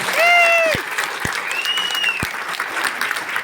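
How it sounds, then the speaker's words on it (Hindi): An audience at a Vestige marketing seminar bursts into loud, sustained applause, a dense wash of clapping from a crowd, with a couple of drawn-out shouts or whistles rising over it. "एक जोरदार ताली आपके लिए होना चाहिए।"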